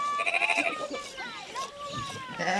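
Goats in a dry pastoral community bleat in several wavering calls, overlapping one another at moderate distance across a short stretch.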